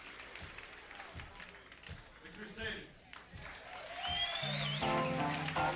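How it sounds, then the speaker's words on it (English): Audience at a live jazz performance clapping along to the music, a steady rhythmic patter beneath a playing band, with some voices mixed in. "Hence why you can hear an audience clapping along."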